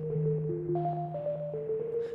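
A bare synth plug one-shot with no effects plays a soft, steady stepwise melody of sustained tones for an ambient beat, heard alone and fairly quiet.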